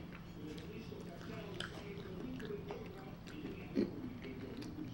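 A mouthful of crispy white pizza with mozzarella, ricotta, pesto and olive oil is chewed close up, with soft wet crunching and one sharp bite near the end, over quiet background murmur.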